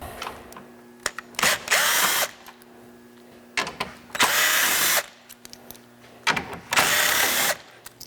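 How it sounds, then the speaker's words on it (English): Power tool driving out the bolts across the top of the grille on a 2015 Chevy Suburban, three loud close bursts of whirring separated by pauses, with no talking. "we're going to take all these bolts out from across the top of this grille"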